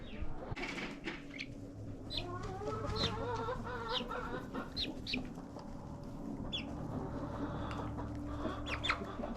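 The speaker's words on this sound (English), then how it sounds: "You ever seen chickens drink water?" Chickens clucking steadily at close range as they drink water at a farm, with repeated soft clucks and occasional louder calls over a constant low background hum.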